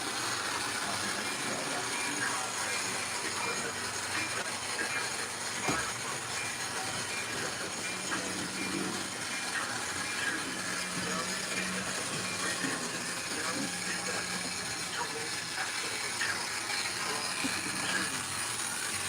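Model trains with DCC sound units run around a layout, giving a steady, continuous rumble and whir of motors and wheels on track, with faint clicks throughout.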